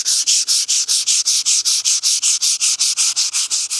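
Hand sanding on a cracked car dashboard makes close, even rasping strokes, about five per second, repeating steadily with no voices.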